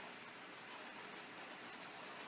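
Steady rain pours down hard at the start of a storm, an even, dense hiss of drops, fairly faint and continuous with no voices.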